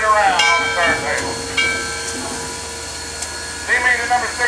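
Southern 630, a 1904 American Locomotive steam engine, hisses steadily with whistle-like tones at a turntable in Chattanooga, a mechanical hum beneath and several brief bursts, while people talk over it.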